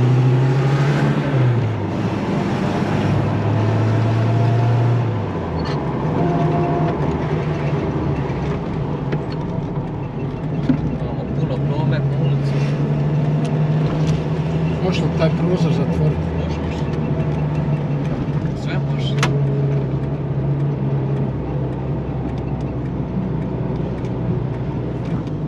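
A restored Zastava 750 (fićo) small car accelerates in second gear, its engine note rising and holding as a steady nearby drone, with people talking over it.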